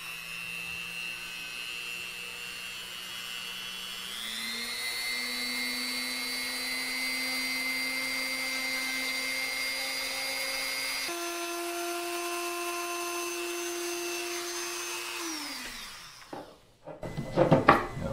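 A router cutter spins up and works through an electric guitar body with a steady high motor whine that steps up in pitch twice, then winds down near the end, followed by brief clattering.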